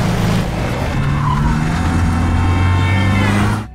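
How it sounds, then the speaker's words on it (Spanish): Film car chase between two cars, loud and close, with screeching, skidding tires and roaring engine noise that keep up throughout and cut off abruptly at the end. "hay una persecución dentro de la película entre dos coches"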